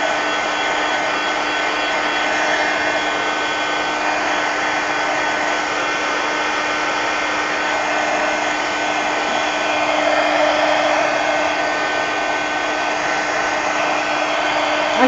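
A hair dryer drying paint on mixed media collage art cards blows a steady, loud, continuous whooshing hum with a constant motor whine that runs the whole time without a break.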